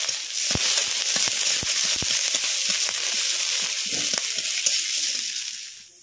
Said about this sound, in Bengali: এই তেলের মধ্যে আমি কিছুটা পেঁয়াজ ভেজে নেব